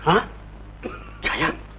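Two short, rough coughs close to the listener, separated by a brief pause with a faint voiced sound between them.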